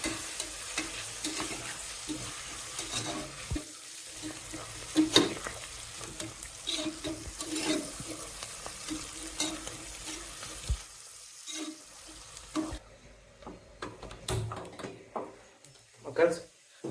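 Onions sizzle in a pan while a utensil scrapes and stirs in uneven bursts for Hyderabad chicken biryani; a voice talks in Tamil over the cooking noise.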